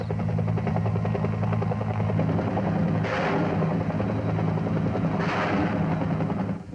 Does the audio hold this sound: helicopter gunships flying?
yes